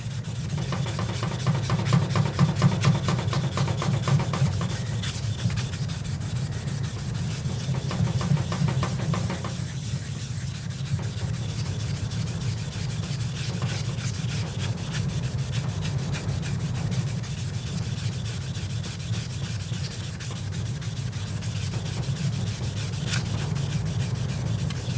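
Steady hand sanding with 800 grit sandpaper on a Cub Cadet LGTX1054 riding mower hood, a continuous close rubbing scratch with fast back-and-forth strokes over a low background hum.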